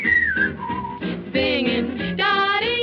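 A person whistles a bright, wavering tune, the melody shifting in pitch through a few short phrases, close and clear.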